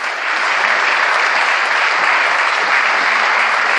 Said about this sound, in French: soyez généreux en ce qui concerne les applaudissements pour tous les marins